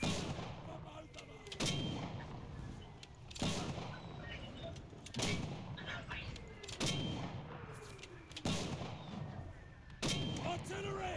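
Gunfire in the World War II shooter game Enlisted, a series of heavy artillery-like shots about every two seconds, booming and reverberant over a rumbling battlefield backdrop, fairly distant and quiet.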